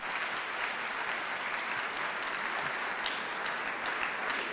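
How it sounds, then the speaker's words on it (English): Audience applause filling a hall at a mental health and addiction event, steady dense clapping held evenly throughout without a break. "Let's give another round of applause."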